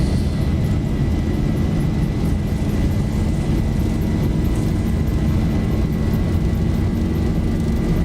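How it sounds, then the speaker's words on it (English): A Boeing 737 takeoff roll in the X-Plane 11 flight simulator, heard as a steady, loud jet engine roar that holds unbroken throughout, with no voices over it. "Long ass takeoff roll here."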